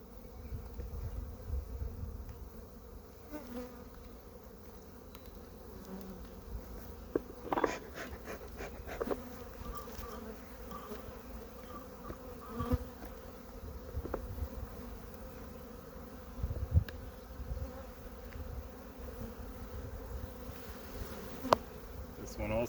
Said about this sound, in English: the bees are less than impressed with me